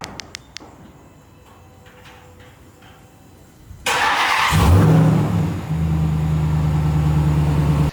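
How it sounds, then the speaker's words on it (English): A RAM TRX Final Edition pickup with a supercharged Hellcat V8 and 8-speed automatic: a few clicks and a quiet lull, then the engine bursts into a loud, close rev with supercharger whine and exhaust rumble, easing slightly before holding a strong drone. "I love the supercharger whine, and the exhaust actually sounds really good."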